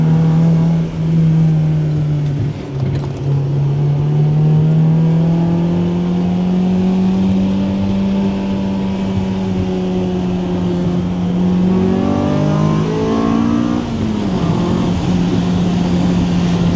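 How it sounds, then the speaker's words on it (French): A Honda Civic EG6 engine revs hard on a closed road, its pitch climbing steadily through long pulls, dipping briefly around a shift, then rising again to high revs, loud and close with no talk. "Je vous laisse profiter de la sonorité du moteur."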